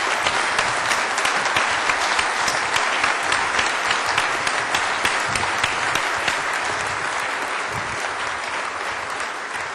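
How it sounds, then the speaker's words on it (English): Sustained, loud audience applause fills an announcement event for the Volkswagen plant in Chattanooga, a dense steady clapping from a large crowd throughout, with no talk over it. "Let's give these folks a big round of applause."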